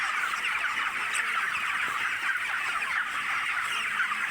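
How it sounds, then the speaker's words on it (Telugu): A flock of farm chickens fills the space with a continuous, busy chorus of clucking and chatter, dense and steady with no single bird standing out. "ఇలా ఉన్నాయి మా కోళ్ళు"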